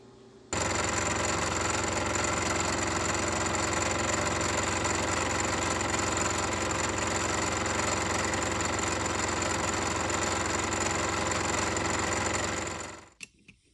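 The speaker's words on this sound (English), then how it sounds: "I'm finished milling it to its overall dimension here" Milling machine cutting tool steel while squaring a micrometer stand base to size: a loud, steady, unbroken whirring drone that runs for about twelve seconds, then winds down to quiet.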